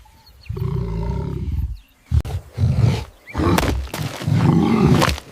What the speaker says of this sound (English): With a furious roar, the mother buffalo charges through two lionesses, goring one in the shoulder as she fights to reach her collapsing young.